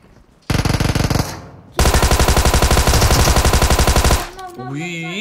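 Gunfire in the video game PUBG Mobile: a short burst of rapid automatic fire, a brief pause, then a longer sustained automatic burst, loud and close, followed by a warbling tone.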